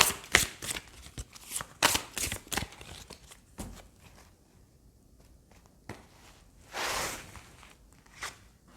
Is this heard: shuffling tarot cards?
yes